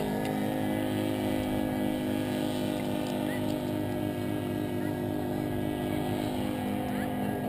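A motorboat engine drones steadily and loudly, close by, with a constant low hum and rumble throughout. Voices are heard faintly beneath it.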